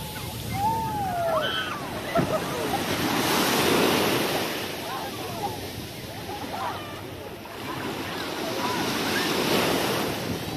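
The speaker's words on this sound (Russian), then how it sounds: "здесь еще и волны" Sea surf rolls onto a beach in Antalya, Turkey, with waves swelling and receding in broad washes under steady wind noise, while a voice talks faintly over the water.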